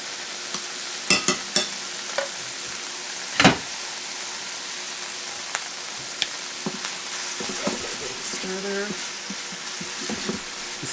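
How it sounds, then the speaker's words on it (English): Garlic sizzling steadily in hot fat and wine, a soft continuous hiss broken by a few sharp pops and utensil clinks. "smell that garlic just starting to kind of sizzle in the fat and wine."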